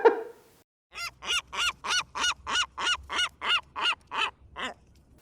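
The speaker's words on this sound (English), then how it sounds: "like the world's loudest seagull" A very loud goose-like honking call, about fourteen evenly spaced harsh honks in a steady rhythm, close and alone after a brief opening noise.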